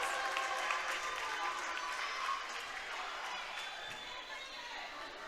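Crowd cheers and claps at a girls' varsity high school volleyball match in a gym, a broad steady roar of applause and shouts that fades slightly toward the end, with voices mixed in.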